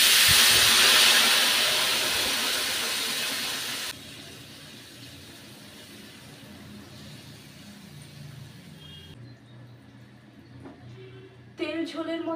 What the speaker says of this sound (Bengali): এবার উষ্ণ গরম জল দিয়ে দিচ্ছি।